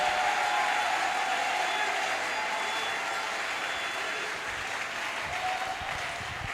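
A church congregation applauds together at a Sunday service, a steady wash of dense clapping that holds loud for several seconds and then eases slightly toward the end, with no speech over it.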